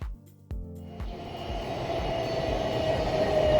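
A train in Taiwan rolls along with a steady low rumble, wheels thudding over rail joints in a regular beat that grows gradually louder.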